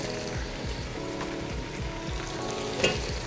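Squash and other vegetables sizzle steadily in a hot pot, with a rhythmic series of scraping stirs running through the frying hiss and a brief louder clatter near the end.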